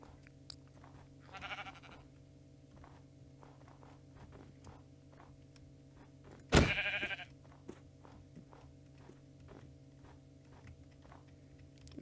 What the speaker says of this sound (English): Plenty of other sheep, too.